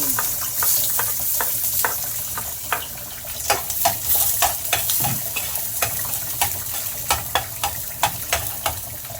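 Garlic sizzles in a pan, with steady frying hiss and a regular series of spatula scrapes and stirs close by, and no talk.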